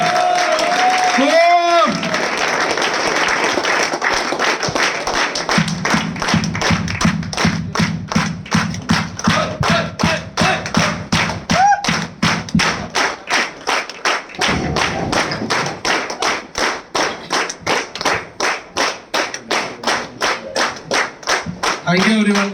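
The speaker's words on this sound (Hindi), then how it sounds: "जोरदार तालियों से स्वागत" A crowd at a DayJoy direct selling meeting applauds loudly to welcome a speaker. The clapping is dense and sustained and settles into steady rhythmic claps, with a low tonal hum running underneath.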